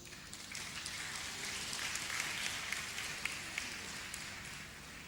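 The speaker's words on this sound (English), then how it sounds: "I thought we want to applaud all those things." Faint, steady audience applause at a university inaugural lecture, a dense wash of distant clapping that holds evenly throughout with no voices over it.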